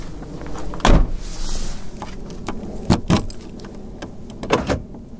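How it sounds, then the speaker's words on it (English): Several sharp mechanical clunks and thumps from a 1992 Volvo 740 Turbo's doors and locks, spaced irregularly, with a soft whirring motor sound between them. "Now, the locking the doors is satisfying too because..."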